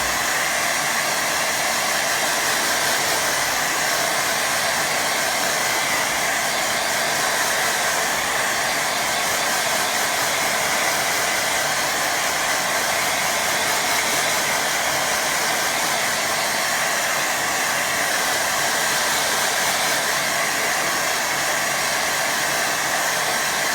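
A hair dryer blows steadily over a watercolour painting of a little pond, a loud, constant close-up roar of rushing air that holds unchanged throughout with no voices.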